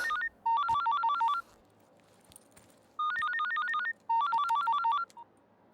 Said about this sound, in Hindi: Sorry, my phone is ringing.